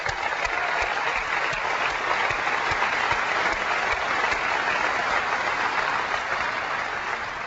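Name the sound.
audience applause for NVIDIA and the GeForce 3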